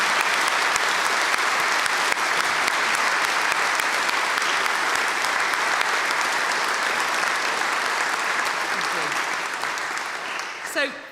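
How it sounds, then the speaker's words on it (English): A graduation ceremony audience gives a sustained round of applause for the graduates, dense steady clapping from a large crowd that holds strong for about ten seconds before thinning at the end. "join in with a collective round of applause for everybody"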